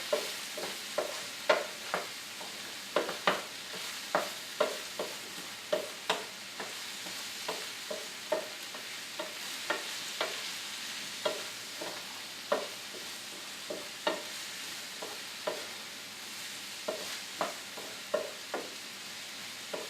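Quinoa primavera with peas is stirred in a pan over a steady sizzle, with a spoon knocking and scraping in a regular rhythm, close and fairly loud, with no talking.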